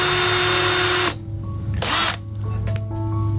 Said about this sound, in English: hopefully when I start drilling,